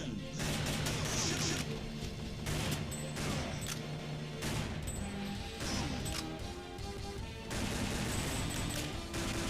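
Rapid bursts of gunfire from an arcade video game running on MAME, loud and dense throughout with crashing impacts and brief gaps between volleys.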